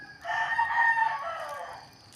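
A rooster on a farm crows once, loud and close, in a single drawn-out call that fades at the end.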